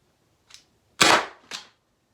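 A Byrna launcher powered by a CO2 cartridge firing, a faint pop followed by a loud sharp crack and a third shorter report, close and spaced unevenly in otherwise quiet surroundings.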